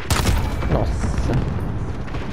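Heavy gunfire and booming impacts in a multiplayer shooter video game, a dense run of loud, close shots merging into a rumbling roar that holds steady for the whole moment.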